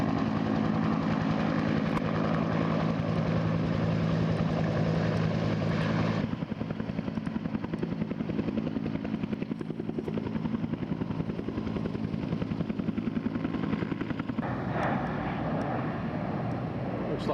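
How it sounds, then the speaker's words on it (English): A small ski-equipped airplane drones overhead in Vermont, a steady loud engine hum that shifts in tone partway through as it passes. "Looks like skis on that plane."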